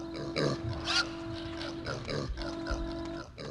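Pig oinking and grunting in a video game, several short snorting bursts over a steady game soundtrack with a sustained tone, moderately loud and close.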